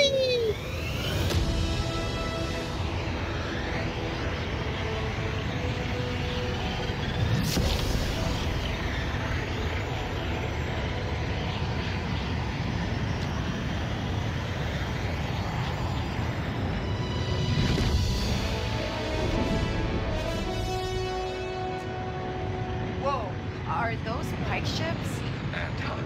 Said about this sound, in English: Spooling up the hyperdrive.